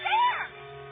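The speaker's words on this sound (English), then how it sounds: "A cat with Curly's face" In an audio drama, the Cheshire Cat gives a short, clear rising meow near the microphone, followed by quiet background tone.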